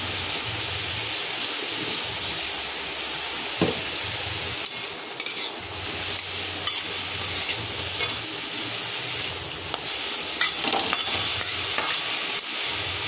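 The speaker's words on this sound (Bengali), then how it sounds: "আবার আমি ভালো করে নেড়ে নিচ্ছি।" Food stirred in a frying pan after salt goes in for a plastic-style pepper chutney, a steady sizzle under repeated scraping and clinking strokes of a spoon, close and continuous with no talking.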